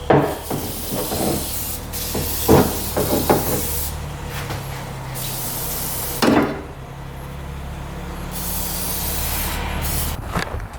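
Lubricant hisses in several close bursts onto the drive chains of a rare 1960s hydraulic 6x6 tank that has sat for years, with clanks and rubbing between the sprays.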